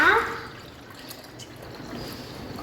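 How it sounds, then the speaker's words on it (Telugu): Tamarind juice pours for Ugadi pachadi in a short liquid splash at the start, then a soft trickle that fades into quiet dribbling. "చింతపండు పులుసుని పోసేద్దాము"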